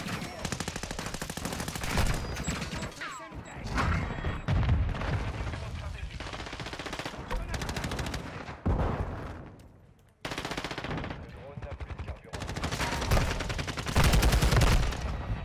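Rapid bursts of SCAR rifle fire in Modern Warfare II, loud and close, repeating in several volleys with short pauses between them.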